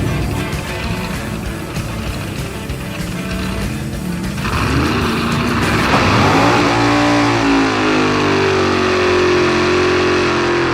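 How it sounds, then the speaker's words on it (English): Big Hemi-engined drag car revving at the drag strip, a loud, close engine roar that builds and climbs in pitch as it accelerates, then holds a sustained high-revving drone. "going to see how that big Hemi runs"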